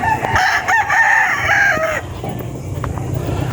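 Several roosters and stags crow loudly and close together at a poultry farm among early bird gamefowl, long overlapping calls in the first two seconds, followed by softer clucking and farmyard background.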